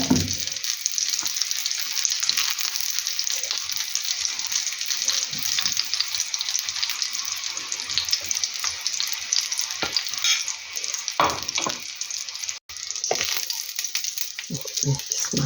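Steady crackling sizzle of white mushrooms in egg batter frying in a pan, with occasional scraping stirs and clinks over the constant hiss.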